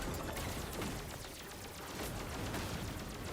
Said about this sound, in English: I don't want to be where those explosions are happening.